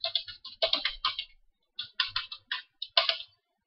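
Login credentials typed on a computer keyboard: two close bursts of rapid, crisp key clicks separated by a short pause, with no voices.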